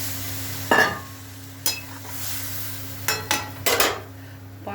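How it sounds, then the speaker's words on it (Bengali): Water poured into minced meat curry sizzling in a pan, giving a few sharp hissing bursts over a steady low kitchen hum, with quiet stirring in between. "এবার আমি জল দিয়ে দেবো।"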